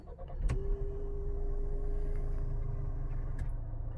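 An automatic car is started with a push-start button, beginning with a sharp click, then a steady humming whine and low engine rumble that hold for several seconds before a couple more clicks, close and with no talk.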